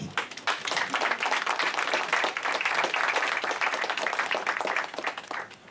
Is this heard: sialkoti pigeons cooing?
no